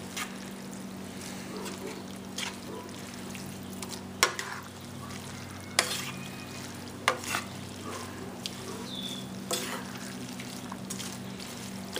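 A spoon scrapes and stirs pasta with vegetables and meat in a pan, making a soft, continuous frying sizzle broken by occasional sharp clinks of utensil on metal, close by.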